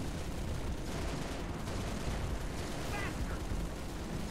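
Sustained heavy gunfire against gunships in the Halo Reach video game, a dense, unbroken roar of shots and blasts that stays loud and steady throughout with no pauses.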